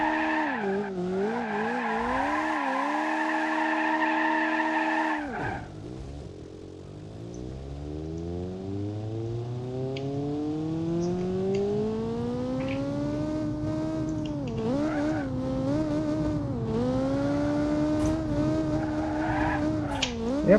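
A car in BeamNG.drive revving and skidding with tire squeal, engine pitch sweeping up and down over a long stretch, loud and close with no talking; the crash itself is not distinct.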